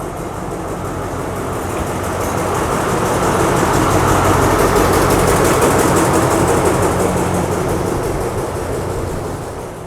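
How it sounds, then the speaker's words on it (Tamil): A diesel locomotive on the Thailand Death Railway approaches to couple onto a train, its engine a loud, steady throbbing rumble that swells toward the middle and eases slightly at the end, with no voices. "ஆக்சுவலாக அந்த டீசல் லோக்கோ வருதுங்க, நம்மளோட இந்த ட்ரெயினுக்கு கப்பல் பண்ணுறக்காக வருது"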